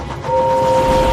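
Cartoon steam engine from a Thomas & Friends story thundering past with a steady two-tone whistle blast over loud rumbling motion noise, close and sustained.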